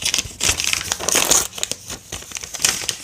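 Paper crinkles and tears loudly up close as a mail envelope holding signed hockey cards is ripped open, with bursts of rustling and crumpling in uneven clusters.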